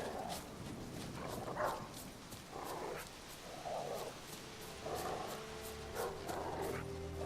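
A dog named Hussar in The Witcher 3: Wild Hunt sniffs and pants in a series of regular breathy bursts about a second apart, close and fairly quiet, with low game ambience underneath.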